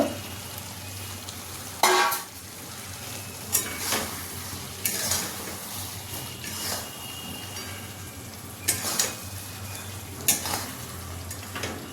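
Eggplant pieces frying in spiced oil sizzle steadily while a utensil stirs them, with sharp scraping clanks against the pan every second or two.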